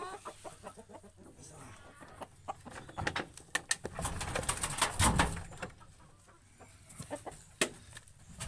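Rhode Island Red chickens in a coop, clucking and calling in irregular bursts, some close and loud, with a busier stretch in the middle and scattered softer clucks.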